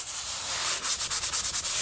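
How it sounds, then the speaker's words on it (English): A sanding block rubs across a dried drywall patch in quick, even back-and-forth strokes, a close, raspy scraping that falls into a steady rhythm. "We'll take our sanding block"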